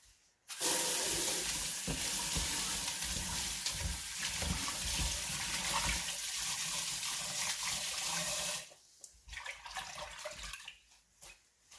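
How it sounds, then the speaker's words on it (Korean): Tap water runs steadily over raw pork being rinsed in a sink for a Korean kimchi stew, a loud continuous splashing rush with handling noises that cuts off near the end, leaving quieter clatter. "이렇게 이걸 대충 물로 한번 헹궈서 준비하겠습니다."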